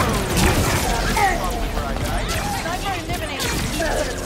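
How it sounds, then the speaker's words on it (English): Grenade explosions in the video game Halo Infinite, a dense battle din of blasts and clattering debris beneath voices talking throughout. "They're lobbing grenades!"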